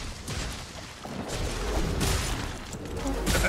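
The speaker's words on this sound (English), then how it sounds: "That was an explosion." A blast-element sword explosion in the video game Monster Hunter World gives heavy, booming bursts over a rumbling battle background, with loud blasts near the middle and the end.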